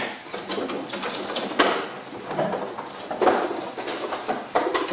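Racing pigeons in a loft coo in soft, repeated throaty bursts close by, mixed with light rustling and knocks, while someone talks intermittently.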